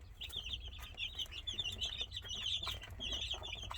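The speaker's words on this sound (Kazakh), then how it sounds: "Мынау Барковская барвистая деген породный тауықтың балапандары." Barkovskaya barvistaya breed chicks, a few weeks old, keep up a steady, close stream of high, rapid peeping and cheeping, with many overlapping calls and no pauses.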